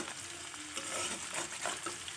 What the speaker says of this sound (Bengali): হালকা করে একসাথে ভেজে নেব।